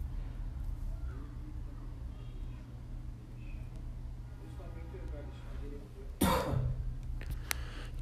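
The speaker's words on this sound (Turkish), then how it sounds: "Halen öksürüyorum." A sudden harsh cough bursts out at close range in the middle of the clip, over steady low hum and murmured background noise.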